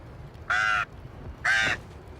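Two loud, harsh crow caws in a film, each lasting about a third of a second and separated by a short pause, standing alone over a quiet background.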